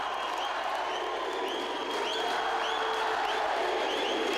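Home crowd at a São José basketball game cheering and applauding, a dense continuous roar with steady energy, sounding like a large indoor arena audience throughout.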